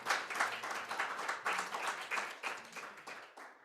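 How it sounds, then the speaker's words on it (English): A conference audience breaks into applause, a brief, moderately loud patter of many hands clapping in quick uneven rhythm with no talk over it. "A big round of applause to Jerry"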